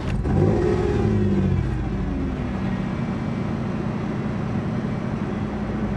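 A 1994 Toyota 4Runner engine idles erratically, its low rumble surging and wavering in pitch rather than holding steady, loud and close for the whole stretch with no talking.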